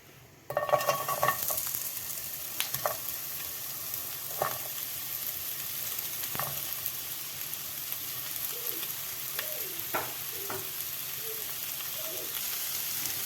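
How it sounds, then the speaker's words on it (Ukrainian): Onion sizzles steadily in hot sunflower oil, with a few clicks and stirring scrapes against the pan and a faint voice in the background. "Ось так нарізала цибулю, зараз буду підсмажувати."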